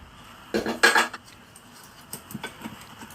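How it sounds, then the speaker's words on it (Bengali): Fried drumstick pieces are scooped from a wok into a mixing jar, giving a few quick metallic clanks and scrapes of a utensil against cookware, followed by softer clinks in a quiet kitchen. "কড়াই থেকে তুলে সবটাই দিয়ে দিলাম"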